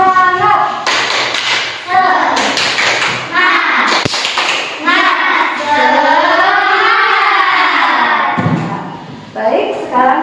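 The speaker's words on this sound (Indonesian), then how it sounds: "Untuk semangat lagi, coba kita tepuk semangat ya anak-anak." Schoolchildren in a fourth-grade classroom doing a rhythmic 'tepuk semangat' clapping chant, loud group voices chanting in unison with bursts of claps and thumps, close and energetic.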